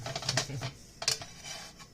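Old, sticky pans clatter and scrape on the stove while grilled cheese cooks, giving short bursts of metallic knocking and rattling in two quick clusters, fairly close, with no talking.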